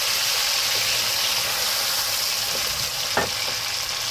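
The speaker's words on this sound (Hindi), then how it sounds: "चिकन को अच्छी तरीके से हम फ्राई करेंगे।" Chicken pieces fry for chicken and kachnar gosht, giving a steady, even sizzle with a soft stir or clink partway through, close and continuous with no talking.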